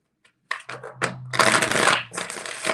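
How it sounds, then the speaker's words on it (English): A deck of tarot cards is shuffled by hand close up, with several quick papery riffling bursts, the longest in the middle, and a short pause between them. "I'm trying to shuffle it good so that Ten of Swords will stop haunting my readings"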